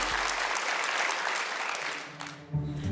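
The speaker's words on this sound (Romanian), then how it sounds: "să o primim cu cele mai puternice aplauze pe Bia" Applause from a comedy stage audience, a dense, loud wash of clapping that runs for about three seconds and ends with a short thump.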